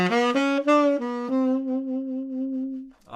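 A tenor sax plays a short phrase from a song, a few clean notes stepping in pitch before one long sustained tone that fades out, solo and close.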